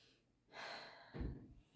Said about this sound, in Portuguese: Isso aqui não é uma respiração legal, uma respiração muito alta